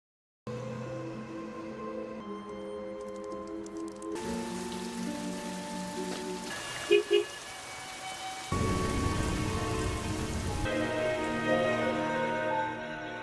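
Rain patters steadily over a layered background of tones that shift in several abrupt sections, with a couple of brief knocks midway and no talking.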